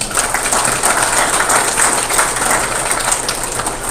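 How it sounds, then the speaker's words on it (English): Steady round of applause from a room of people at a town board of aldermen work session, honoring local citizens; dense, continuous clapping at even loudness throughout, with no talk over it. "let's give a round of applause to our citizens"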